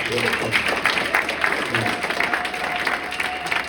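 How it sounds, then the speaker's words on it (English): An audience at a Forsyth County, Georgia Democratic town hall gives a panel of candidates a fairly quiet, steady round of clapping, with some voices mixed in. "Can we get another round of applause?"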